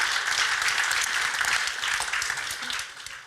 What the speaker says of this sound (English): So could we give a big round of applause and welcome to our speakers.